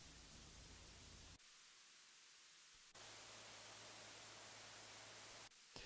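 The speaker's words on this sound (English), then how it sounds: "I'm going to add in some amp noise here using this slider here" Low hiss of simulated amplifier noise from the Excite Audio Lifeline Console plugin that shifts character in distinct steps, switching abruptly between three modes, with a faint hum in parts.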